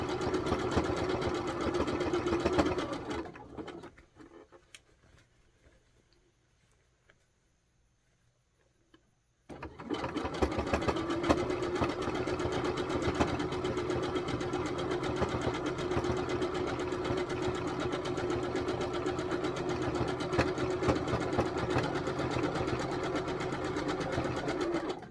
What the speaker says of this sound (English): how important it is to have a good machine that will go over the lumps and bumps